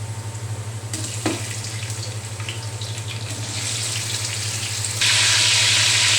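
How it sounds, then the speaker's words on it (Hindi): Chicken fries in a pan with chili and turmeric, a continuous sizzle under a steady low hum, growing louder and brighter toward the end. "चिकन डाल दिया है"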